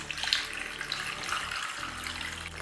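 About 1.5 litres of water pouring into a cooking pot for vegetable broth, a continuous close gushing splash that stays steady and fairly loud the whole time, without speech.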